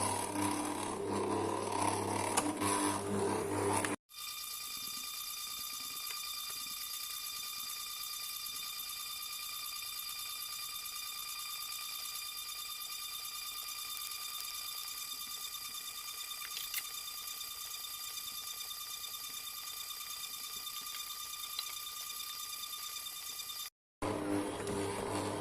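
A kitchen mixer kneads sticky bread dough at speed 2 with a steady, even mechanical whir and a faint high tonal whine, running alone and unchanged for about twenty seconds between noisier handling at the start and end.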